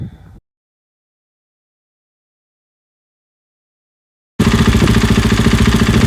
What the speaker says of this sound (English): this is the Graves Titanium. Very lightweight, very well constructed, very nice muffler